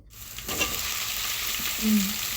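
Sizzling and frying in a pan as tomatoes go into browned onions for a biryani, a steady close hiss with a soft burst of crackle partway through.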